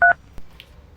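A phone number being dialed: one short, loud keypad tone at the start, then a faint click and near silence.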